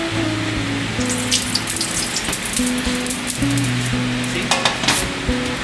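Oil sizzling steadily in a hot wok over lowered heat, a continuous crackling fry with small pops, running alone at close range, with a single brief spoken word.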